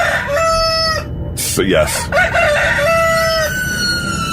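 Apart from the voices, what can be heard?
rooster crowing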